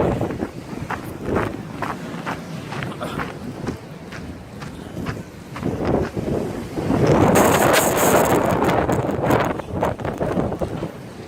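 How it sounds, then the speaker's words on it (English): Strong wind in a snow blizzard in Colorado Springs buffets the microphone with loud rumbling gusts, punctuated by rhythmic crunching footsteps and swelling into a heavier roar partway through. "It is so windy."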